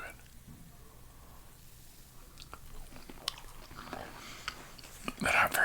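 Soft oatmeal chocolate chip cookies, store-bought and chewy, are bitten and chewed close to the microphone, with quiet moist chewing that builds into louder, sharper bites at the end.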